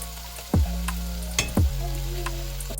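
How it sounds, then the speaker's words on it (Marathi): Prawn masala sizzles steadily in a pan after a sprinkle of garam masala, a close, continuous frying hiss with a few sharper clatters of stirring or the lid. "आता हे झालं आहे असं फ्राय."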